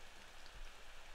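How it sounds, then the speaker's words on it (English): Steady rain in the Ao Oni video game, a soft, even hiss of falling rain with no talk. "Not only is it raining, but Zeus decided to show off his thunder."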